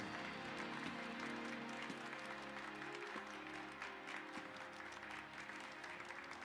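Crowd applause from the Dragon's Dogma 2 video game, a faint, steady wash of many hands clapping that sustains throughout beneath low game sounds.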